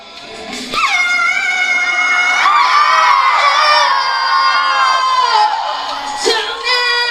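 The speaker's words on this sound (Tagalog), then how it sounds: "Ang daming taong sumigaw, ang daming taong sumayaw, ang daming taong sumaya." A large, lively crowd shouts, whoops and cheers loudly and continuously at a show, with high excited voices swelling together and a brief dip and burst near the end.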